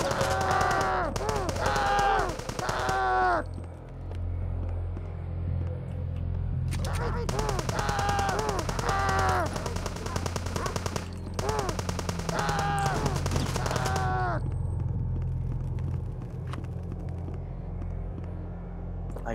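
Submachine gun fire from the shooter game HROT, rapid automatic bursts in repeated volleys over a steady low game soundtrack, loud and close, with several pauses between the strings of shots.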